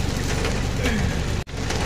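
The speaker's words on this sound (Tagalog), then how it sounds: "nalakas pa rin ang ulan" Dense steady hiss of rain falling, loud and continuous, with a brief dropout near the end.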